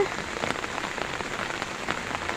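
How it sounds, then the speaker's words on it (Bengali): Rain patters steadily on a surface, with scattered nearby drops ticking over a soft, even hiss. "ভাবছি যে বৃষ্টি পড়ছে"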